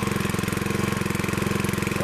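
A Craftsman riding lawn mower engine running just after a cold start, a loud steady rapid chugging with an even pulsing rhythm, close up and alone without voices.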